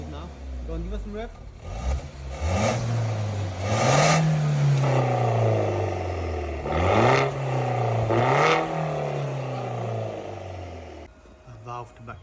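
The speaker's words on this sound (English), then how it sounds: "This valve's closed now. Go on, give us some revs." A BMW 118i with a valved exhaust back box, valve shut, revved in several rising and falling bursts close by, its engine note climbing and dropping under a background voice.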